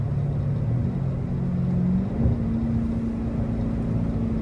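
A Dodge Charger Hellcat widebody with catless mid pipes downshifts at around 60 mph with the windows up, a steady deep exhaust drone heard from inside the cabin that shifts pitch partway through.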